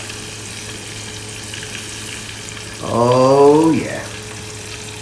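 Fish drops into hot oil and fries, a sudden loud sizzling burst that swells for about a second and then settles over a steady low hum. Someone speaks briefly.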